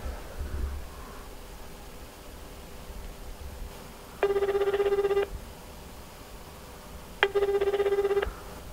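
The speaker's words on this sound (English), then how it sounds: "It's like you got a call." A telephone rings in two electronic trilling bursts, each about a second long with a pause between, loud and close over a steady low background hiss.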